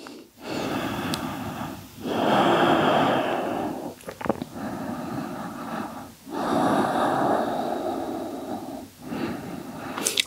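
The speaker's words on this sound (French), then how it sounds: "Et on respire." Slow, deep yoga breaths during a Yin Yang yoga session: three long, loud, close inhale-exhale cycles, each separated by a brief pause.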